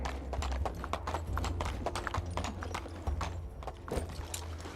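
Horse hooves clip-clopping in the video game Medieval Dynasty, a quick even run of close hoofbeats over a low rumbling bed, with a brief whinny-like sound and a faint voice in the background.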